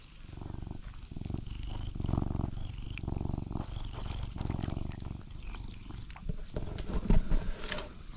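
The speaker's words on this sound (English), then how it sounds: "the loudest purring cat that I've ever met" A cat purrs loudly and close up in a steady rhythmic rumble, with a few soft rustles and bumps near the end.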